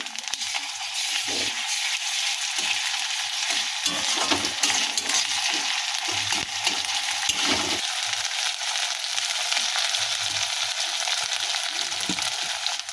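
Persistent sizzle of ginger-garlic paste frying after onions, broken by repeated scraping and stirring sounds from a utensil in the pan.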